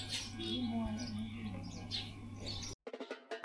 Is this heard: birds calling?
yes